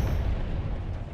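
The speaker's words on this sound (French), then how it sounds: "Il y a des explosions derrière." Explosions in a video game rumble as a continuous deep, loud blast with a rolling low-end roar lasting about a second, heard alone.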